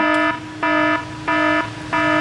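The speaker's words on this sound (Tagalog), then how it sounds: "Timer done." An electronic kitchen timer beeps in four evenly spaced bursts, each a steady, fairly loud tone with short pauses between.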